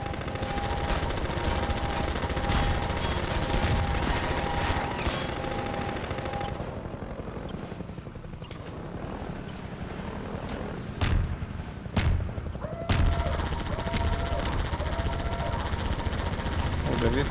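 Enemy helicopter in Half-Life 2 strafing with its gun, dense rapid bursts of fire under a German-speaking voice, with a quieter stretch midway broken by a few sharp bangs before the heavy fire resumes.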